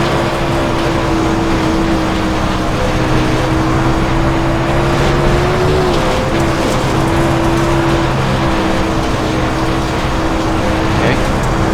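Dirt race car engine in the racing game iRacing, a loud, continuous droning roar whose pitch rises and dips slightly with throttle, heard up close with a voice speaking over it.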